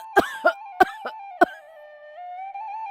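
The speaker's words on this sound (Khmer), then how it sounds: "ស្ត្រីចំណាស់បានក្អកធ្លាក់ឈាមមកយ៉ាងច្រើនស្ទើរតែផុតសង្ខារម្ដង" An elderly woman in an animated story coughs in several harsh, close bursts, then falls quiet as soft sustained music tones continue.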